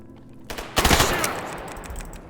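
A burst of gunfire in the survival shooter STALKER GAMMA: a sudden loud crackle of rapid shots erupts, rings out and fades into a lingering, echoing tail, with no talk.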